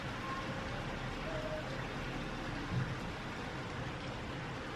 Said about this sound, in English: But it's raining a lot.